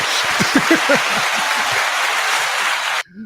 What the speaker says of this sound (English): Give a round of applause for JT, aka Jonathan Thompson.